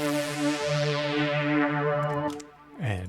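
Synthesizer oscillators with LFO, unison and stereo pan hold a sustained rich tone with a slow wobbling pulse, then fade into a brief falling sweep at the end, with no talk.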